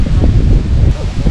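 Wild grasses sway and rustle in a steady breeze outdoors among flowering plants, a continuous soft swishing with low wind rumble buffeting the microphone.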